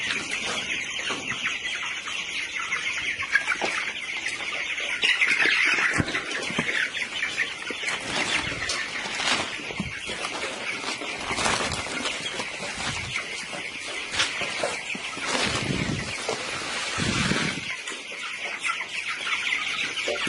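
Broiler chickens on a farm cluck and chatter continuously, with scattered sharper squawks and brief wing flaps throughout, close and busy, with no human voices.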